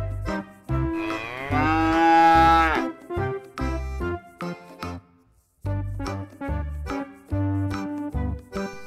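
A large mother cow moos repeatedly and loudly, in long drawn-out bellows with short gaps between them, close by.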